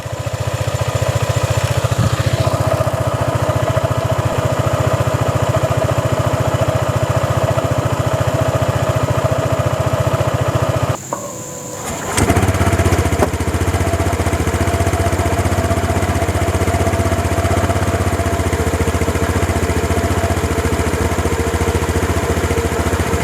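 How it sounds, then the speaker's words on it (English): A Honda ADV150 scooter engine idles at a steady, even putter. The sound is close and constant, with a brief drop in the middle before it settles back to the same idle. "This is what the ADV150 sounds like at idle."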